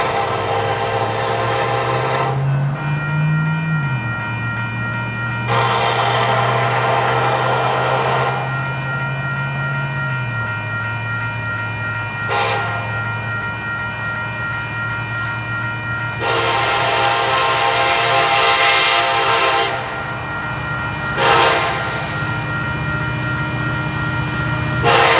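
A Kansas City Southern freight train rolls past a siding in Texas with a steady rumble of cars, its horn sounding in several long and short blasts, loud and close, with no voices.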